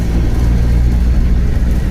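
A bus engine drones at a steady, loud, close pitch during a ride toward Jolapalem, with a low rumble and no talking.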